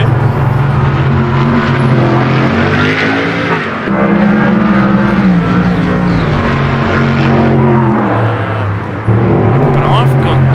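Race cars in a Jewellers Cup round at Oulton Park circuit in the UK, engines droning loudly and steadily throughout, with pitch rising and falling as cars pass, under continuous commentary talk.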